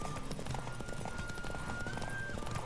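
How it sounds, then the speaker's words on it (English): Hoofbeats of a horse galloping in a race in The Witcher 3, a steady dense clip-clop rhythm with a snort or whinny, running under game music and ambience throughout. "Beat the Baron in the horse race."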